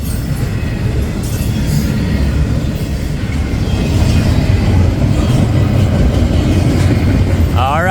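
A CPKC freight train, with a BNSF SD70ACE locomotive running as a mid-train DPU, rolls past close by in a loud steady rumble of wheels and cars, with faint squealing near the end.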